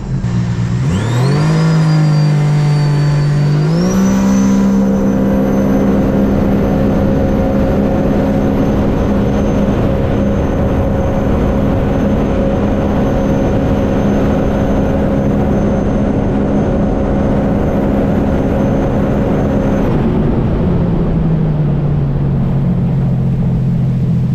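A 2021 Sea-Doo RXT-X jet ski fitted with a Rotax 300 engine at Stage 1 tune roars steadily at high speed, its pitch climbing early, holding loud and constant, then dropping near the end.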